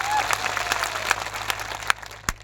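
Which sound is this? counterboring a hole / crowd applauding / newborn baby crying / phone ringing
crowd applauding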